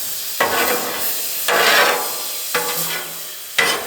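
Steak and vegetables cooking on a home hibachi gas griddle, with several bursts of loud close sizzling and scraping as the food is turned, each swelling and fading between strokes.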